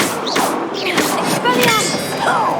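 A Confringo blasting spell fires during a Hogwarts Legacy duel, sharp magical bursts and whooshing impacts landing amid overlapping voices and combat effects.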